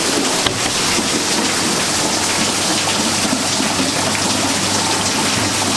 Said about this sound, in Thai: อาจจะเป็นเสียงฝนเข้านะครับผม